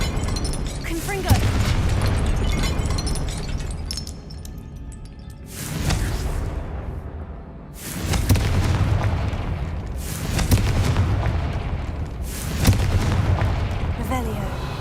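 Heavy booming blasts from the Confringo blasting spell in the video game Hogwarts Legacy go off in several loud, close waves, with rumbling tails between them.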